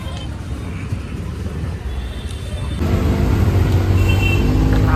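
An auto rickshaw rides through rain-jammed town streets in Thane, its engine droning steadily under passing traffic, growing louder and denser partway through.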